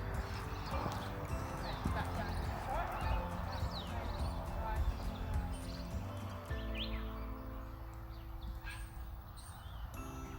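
A horse being ridden makes steady clip-clop hoofbeats close by, with birds chirping in the background and a person talking over the hooves at times.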